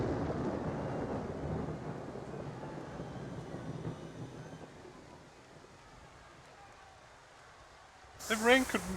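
Rain and thunder weather in the Blood Bowl 2 video game gives a low rumbling hiss that fades over several seconds, and a voice speaks briefly near the end.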